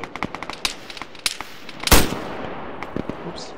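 Gunfire in the military shooter Arma 3 during a forest firefight: sharp, irregular single shots and short bursts, one much louder close blast near the middle, with faint distant shots trailing off afterward.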